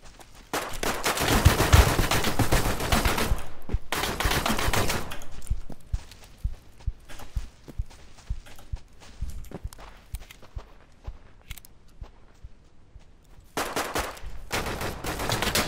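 AK rifle fire in the survival shooter Deadside: loud bursts of rapid automatic shots at the start and end, with scattered single shots and footsteps in between and no talking.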